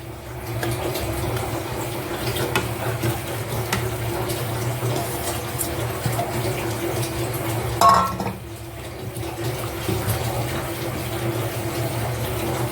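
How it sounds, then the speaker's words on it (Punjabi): Sliced onions being washed in a bowl of water, with steady splashing and occasional clinks of dishes or utensils throughout, plus one brief louder knock near the middle, recorded close up without talk. "ਲਓ ਜੀ ਆਪਾਂ ਇਹਨਾਂ ਨੂੰ ਹੁਣ ਧੋ ਲੈਣੇ ਆ"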